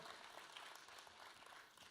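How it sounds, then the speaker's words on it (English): Audience applause at the opening of a conference, heard as a steady, fairly faint wash of many hands clapping for two seconds with no break. "You all deserve a round of applause"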